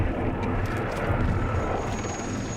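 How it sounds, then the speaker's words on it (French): Helicopters carry large fire extinguishers from a military base to an outpost fire during a Foreign Legion operation in Mali, with a loud, steady aircraft engine roar throughout and no voices. "Pour éteindre l'incendie, des hélicoptères acheminent de gros extincteurs depuis la base."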